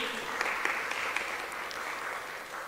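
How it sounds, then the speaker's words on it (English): An audience at the EDHE Lekgotla 2025 gathering applauds steadily, with a dense wash of clapping and a few sharper individual claps standing out throughout. "Again, colleagues, a round of applause"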